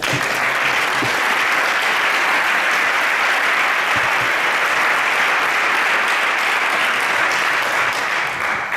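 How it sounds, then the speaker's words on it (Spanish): An audience applauds a local professional cyclist from Calpe at a talk, sustained, even clapping from a sizeable crowd that carries on steadily for several seconds without any voices over it. "Así que un aplauso para él."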